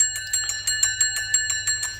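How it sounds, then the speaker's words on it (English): The House of Lords division bell rings in rapid, regular electric strikes, a bright continuous metallic trill heard alone and fairly close. "It's a division bell, isn't it?"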